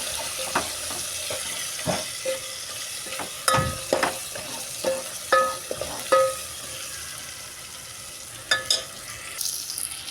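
Curry being stirred and mixed in a frying pan, with scattered scraping clinks of the spoon against the metal pan over a soft steady sizzle, close and moderately loud, no talking.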